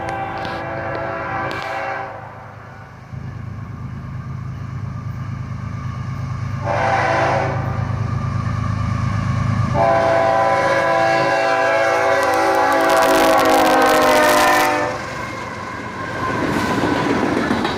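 A CSX covered hopper freight train led by three locomotives, CSX 3049 an ES44AC, passes a crossing in Carlisle: a loud, close horn sounds in several long blasts over a heavy engine rumble, then wheel clatter and rolling noise continue.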